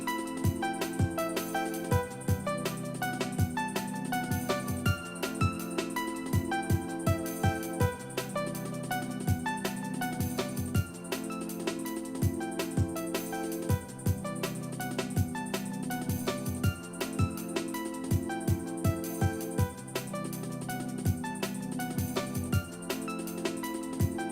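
A drum break loops inside an Ableton Live jungle production template: busy, continuous music with crisp, rapid drum hits driving throughout, dense and loud without any voices.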